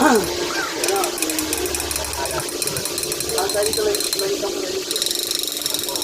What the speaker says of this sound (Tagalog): Testing mo natin, laruin natin itong mga shifter na yan.